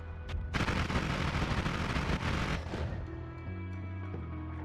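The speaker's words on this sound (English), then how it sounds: "The sound starts crapping out once you start firing every frame." Dense rapid video game gunfire, fired every frame, roars continuously for a few seconds, then cuts abruptly into a thin, glitchy, stuttering tone as the sound breaks down.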